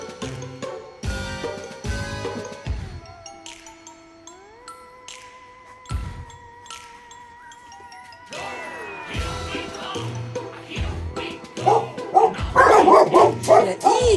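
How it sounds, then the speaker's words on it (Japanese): A dog barks several times in short bursts, close by, with soft tones and a person's voice in the background; the barking grows louder toward the end. "なんで吠えてるかと言ったら"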